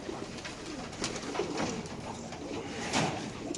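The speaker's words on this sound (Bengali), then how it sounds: "এগুলো খুব ভালো ভালো কবুতর" Caged pigeons cooing, soft repeated low coos from several birds, fairly faint and close, with light rustling between calls.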